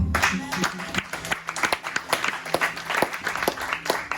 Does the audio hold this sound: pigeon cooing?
no